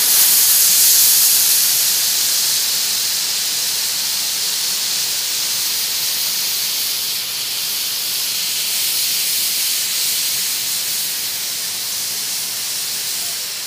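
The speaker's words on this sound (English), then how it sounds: "I'm going to put the steam right on top, but I'm not going to touch my fabric." A steam iron blasts a continuous, loud hiss of steam held just above fabric during appliqué quilting work, steady throughout with no talking.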